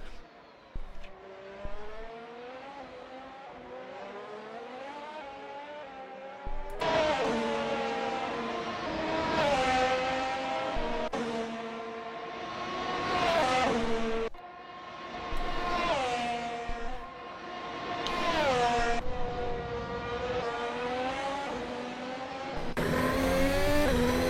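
Racing car lapping the Canadian Grand Prix circuit, its engine note climbing and dropping through repeated upshifts and hard downshifts as it accelerates and brakes through corners, loud and close throughout with no talking.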